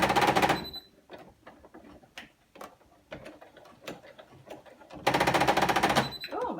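A sewing machine stitches a zip pouch in two loud, fast bursts of rapid needle hammering at the start and end, with softer scattered clicks and handling noise between them, up close.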